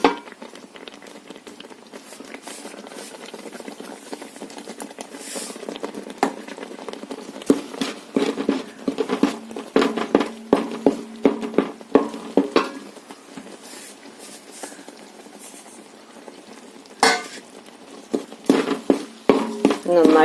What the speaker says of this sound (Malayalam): ഇനി നമുക്ക് കുറേശ്ശെ ഇങ്ങനെ ഇട്ടുകൊണ്ട് ഇളക്കി കൊടുക്കാം